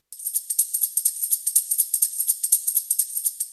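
Tambourine loop from a classic break, bright metallic jingle hits in a fast, steady funk rhythm with alternating accents, thin and crisp with the low end removed, played alone.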